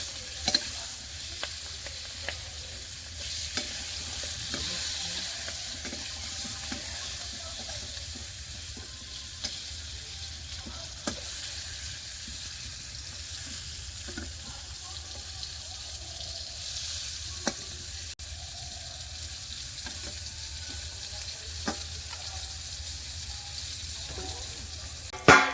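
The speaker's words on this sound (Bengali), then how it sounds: "এগুলো দিয়ে দেবো কড়াইয়ের মধ্যে" Eggplant slices and chopped green chillies frying in oil in a wok, giving a steady close sizzle throughout with occasional small clicks and stirring taps.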